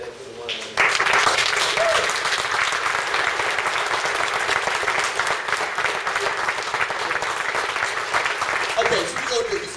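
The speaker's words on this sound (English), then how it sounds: "Let's put our hands together for the one." An audience at an evening event with Grandmaster Flash applauds steadily, a dense wash of clapping that stays loud and even for about nine seconds with no talk over it.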